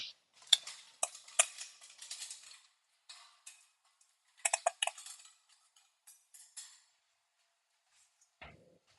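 A pan handled on a kitchen stove with loose metallic clatter and scraping in irregular bursts, fairly quiet and close, ending in a soft thud.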